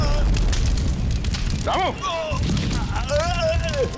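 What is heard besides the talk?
bomb explosion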